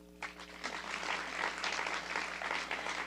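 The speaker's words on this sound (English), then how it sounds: "Please join me in expressing our deepest gratitude. A round of applause." Guests at a State of the City dinner in 2024 applaud with soft, even, somewhat distant clapping that rises quickly and holds steady for a few seconds.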